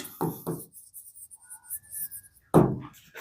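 Writing out a physics answer on a board or page during an ICSE Class 9 lesson on graphical motion, with a few brief scratchy strokes and a louder stroke near the end, close and moderately loud.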